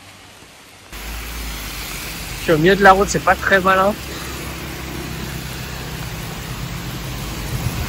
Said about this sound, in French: Et il pleut vraiment fort.